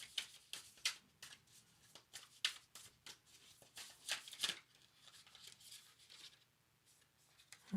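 Tarot cards shuffled and drawn during a reading, a quiet run of crisp riffles, flicks and card slaps in an irregular rhythm, close and soft with no talk.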